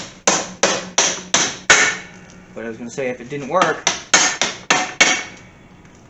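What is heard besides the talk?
hammer pounding out a pin from a tool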